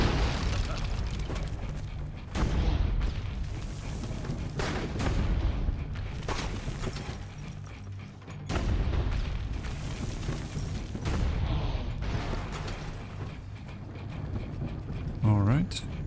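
Leonardo's tank from Assassin's Creed Brotherhood fires several loud, booming cannon blasts at irregular intervals, layered over continuous game rumble and music.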